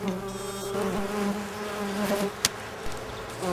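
A steady buzz of mason bees hums close by at a nest box, continuous and droning, with a brief sharp knock partway through.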